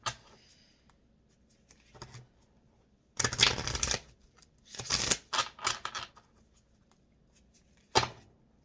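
A deck of cards is shuffled in several quick riffling bursts, close and crisp, separated by quiet gaps with a few soft taps.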